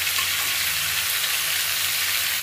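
Potatoes and chunks of elephant foot yam fry in oil in a wok, a steady dense sizzle holding even and loud throughout with no pauses and no voices.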